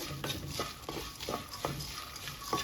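A utensil stirs fried dried prawn heads in a hot pan just after the stove is switched off, giving a series of soft, irregular scraping clinks against the metal over a faint background sizzle.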